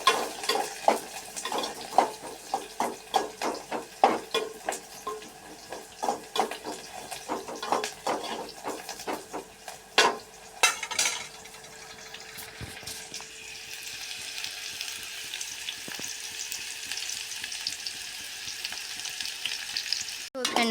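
Ivy gourd sambharo cooks in a pan with steady sizzling and frying, broken by repeated sharp stirring scrapes and clatters early on, then settling into a continuous hiss.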